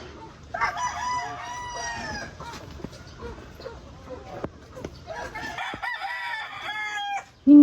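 A rooster crows twice in long, rising calls, with hens clucking softly between and around the crows. The birds are fairly close, and a brief loud knock sounds at the end.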